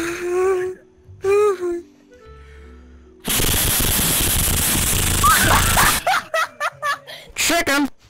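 Loud gunfire in Rec Room: a long roaring burst, then a string of rapid sharp shots, with a voice giggling and talking beforehand.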